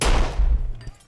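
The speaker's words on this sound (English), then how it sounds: "Gunfire broke out, and the money vanished." A burst of gunfire as a sound effect, a loud rapid volley of booming shots in quick succession, close and heavy, fading away within about a second.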